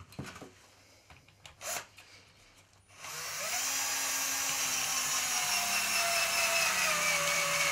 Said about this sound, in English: always pre-drill those holes